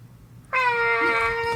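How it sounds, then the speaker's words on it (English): A cat meows loudly outside a shut door, wanting to be let in: one long, sustained, harmonic meow that starts abruptly and carries on steadily at close range. "It always sits at the front and goes, meow."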